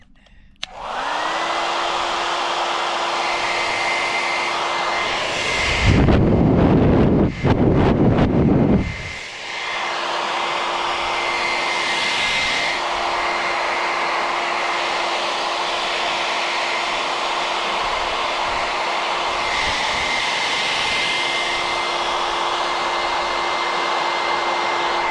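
A 1500-watt hair dryer running on an OSCAL POWERMAX 6000 power supply in an RV gives a steady, close, airy roar throughout, with a brief louder surge partway through.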